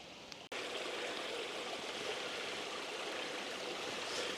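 A stream feeding Ogden Reservoir rushes steadily and close by, a continuous broad wash of flowing water that cuts out for an instant near the start, then runs on unbroken.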